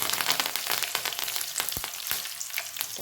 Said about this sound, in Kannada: ಉಳ್ಳಾಗಡ್ಡಿ ಸ್ವಲ್ಪ ಫ್ರೈ ಆಗಿದೆ